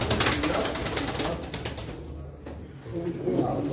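Pigeons coo at a Turkish pigeon auction in Çorum, a continuous soft murmur of birds beneath a noisy, crowded background with people talking.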